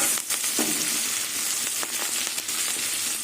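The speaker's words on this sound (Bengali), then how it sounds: "এবার কাঁচা লঙ্কা আর পেঁয়াজ দিয়ে দেবো এবার দিয়ে দেবো আলু" Green chillies, onion and potato sizzle and fry steadily in a pan, a loud continuous crackle with a few stirring scrapes and no talk.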